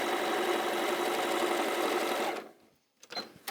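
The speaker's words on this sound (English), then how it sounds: "So now all we're doing there is just sewing down this line 1/4 of an inch." A sewing machine stitches a straight seam a quarter inch from the edge, running as a steady, close whir for over two seconds and then stopping, followed by a few faint handling clicks.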